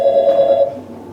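A telephone rings for an interactive call-in on a studio consultation broadcast, one short, loud electronic ring burst that cuts off and fades quickly.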